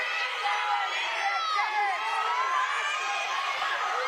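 Fans in a college sports arena cheer and shout in a dense, continuous roar of overlapping voices that stays steady and fairly loud throughout.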